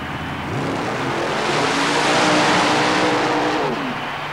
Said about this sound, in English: Mike Robinson in his Jeep near lane, far lane, Buddy Curley Supercharged 23T altered, called Snoot.